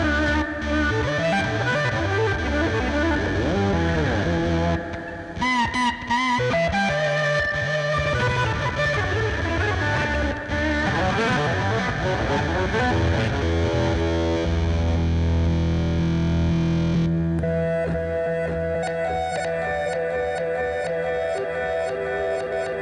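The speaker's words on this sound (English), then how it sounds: "which makes it the most musical sounding reverse delay I've probably ever used" Electric guitar played through a reverse delay pedal, with swelling backward-echo tones and a heavily distorted, effects-laden texture that runs steadily and loud, thinning out toward the end.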